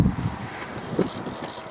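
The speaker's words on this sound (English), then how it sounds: "it's a windy day. It's in the 60s, but it's windy." Steady wind buffeting the microphone outdoors at Sauk Prairie Recreation Area on a windy day in the 60s, a continuous rumbling roar with gusts rising and falling, no voices.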